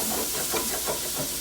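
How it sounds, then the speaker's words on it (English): Rice toasts in a single pan for jambalaya, giving a steady, close sizzling hiss with soft crackles throughout. "we're going to toast the rice just like you would for rice pilaf"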